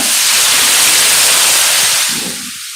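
A boat engine with a flooded carburetor hisses and sizzles, a loud broadband rush that holds steady then fades away near the end.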